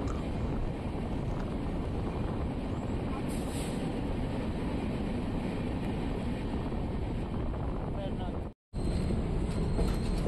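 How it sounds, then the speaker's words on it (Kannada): A passenger train on the Gulbarga to Mumbai route, heard from inside a general coach, runs through a railway station with a loud, continuous rumbling roar and rattle, cut by a brief dropout near the end. "ಯಾವುದೋ ರೈಲ್ವೆ ಸ್ಟೇಷನ್ನ ಸ್ಕಿಪ್ ಹೊಡಿತಿದೆ ನಮ್ಮ ಟ್ರೈನು"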